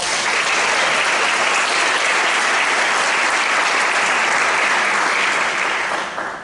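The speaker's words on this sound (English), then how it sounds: "Let's give them a round of applause" Dense, steady applause from a large audience at a Monroe County Teacher of the Year presentation, honoring sponsors, sustained loudly for about six seconds before beginning to taper at the end.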